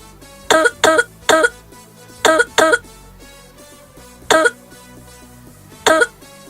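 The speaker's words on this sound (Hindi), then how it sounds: "दिन भर खांसती रहती हो।" A woman coughs in sharp bursts: a quick run of three, a pair, then two single coughs, close and loud over a quiet background.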